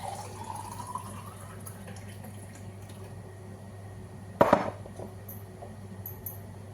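Cold water poured from a glass into flour already mixed with oil, making a short splashing burst near the middle that stands out above a steady low background hum.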